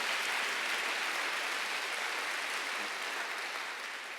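A church congregation applauds during a Sunday worship service, a dense and even wash of clapping that holds steady throughout and eases slightly at the end.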